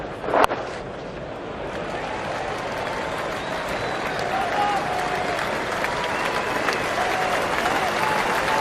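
A cricket crowd applauds Steve Smith's innings, steady sustained clapping from a large stadium audience after one sharp louder clap at the start, continuing evenly at a moderate distance.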